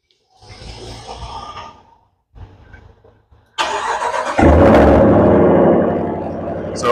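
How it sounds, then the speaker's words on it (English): A stock Ram 1500 with a GT package cold air intake and factory muffler cranks over on its first cold start of the day, catching with a sudden loud roar and settling into a steady, rumbling high idle after quieter noises. "So let me give you guys a cold start. First start of the day. This is the stock."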